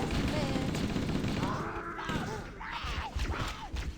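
Gunfire in the video game Halo: Combat Evolved crackles steadily beneath game sounds, with a voice audible at times in the mix.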